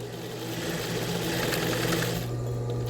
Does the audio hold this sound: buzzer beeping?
no